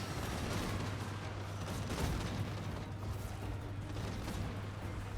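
Cannons fire in a Total War: Warhammer II battle, a dense continuous wash of distant booms and crackling gunfire that stays steady and noisy throughout.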